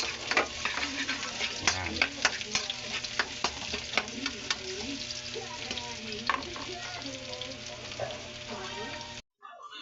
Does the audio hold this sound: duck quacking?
no